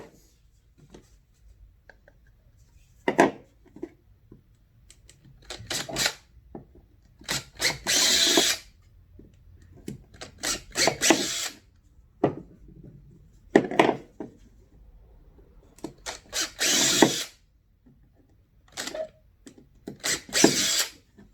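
A power drill bores holes into a plastic kayak fishing crate in a series of short, loud whirring bursts separated by pauses, with light handling clatter in between.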